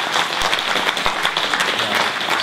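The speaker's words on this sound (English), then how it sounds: "Some of you are clapping." An audience at a talk claps in a dense, steady burst of applause, loud and continuous, with a few sharper individual claps standing out.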